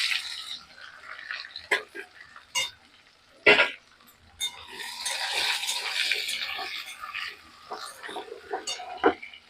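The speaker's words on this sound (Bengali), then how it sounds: "আমি যে সবজিগুলোকে ভেজে রেখেছিলাম এবারে এই তেলের মধ্যে আবার দিয়ে দিচ্ছি।" Fried vegetables going back into hot oil in a pan for a capsicum side dish, giving a spreading sizzle and clatter with sharp clinks of a utensil against the pan, heard up close with no voices.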